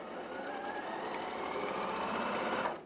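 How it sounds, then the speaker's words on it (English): A sewing machine stitches a dress seam with a steady, continuous close whir for nearly three seconds, then stops abruptly. "And you're sewing it virtually up to each mark, each notch."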